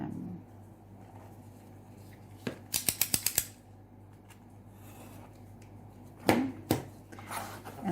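Scissors snip through card in a quick burst of several close, crisp cuts, followed later by a couple of single snips over quiet room background.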